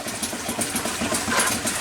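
Two small steam engines running in a home steam setup with a feedwater tank, heat exchanger and steam pump, a loud close mechanical chugging with an even rapid rhythm and no talk.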